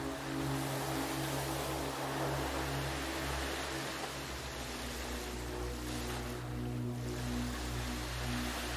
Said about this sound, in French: Vous observez l'océan qui s'étend à perte de vue. Les vagues dansent doucement.